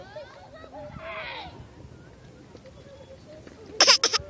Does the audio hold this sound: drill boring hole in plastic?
no